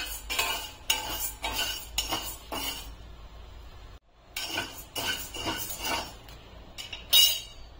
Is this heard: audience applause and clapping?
no